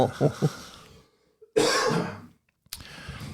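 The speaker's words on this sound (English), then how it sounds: "We both kind of have a dry cough going on here." Two dry coughs and throat clearing, close and fairly quiet, with brief pauses between them and no talking.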